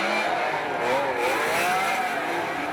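A V12 Toyota drift car at a D1NZ drift battle at Wellington screams near 8,000 revs, a loud sustained high engine wail with wavering pitch as it slides, heard close and without talk.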